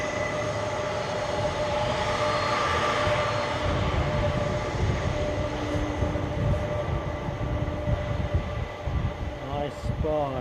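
ATR 72-600 turboprop inbound from Belfast at Edinburgh airport, a steady far-off engine drone with tonal whine throughout, talk over it.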